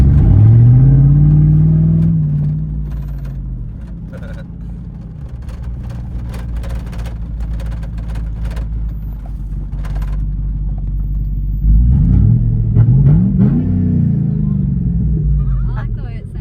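A 2008 GMC Yukon Denali with its muffler cut off gives a low, loud exhaust rumble while driving. The engine swells at the start and again later, and people talk over the drone.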